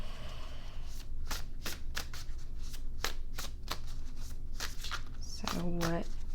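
A deck of tarot cards riffled and shuffled by hand in quick repeated bursts, close and crisp, with a brief tonal sound near the end and a person talking over it.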